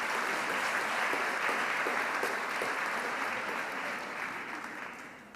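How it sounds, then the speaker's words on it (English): An audience at a university commencement ceremony claps steadily for several seconds, a dense, even wash of applause that slowly fades toward the end, with no voices over it. "Clapping, however, is strongly encouraged."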